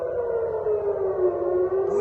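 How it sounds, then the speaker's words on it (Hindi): An air raid siren blares across Tel Aviv, a loud, steady wailing tone that holds without a break for the whole stretch, with no voices over it. "जोरदार सायरन बज रही है पूरे टेल अवीव में।"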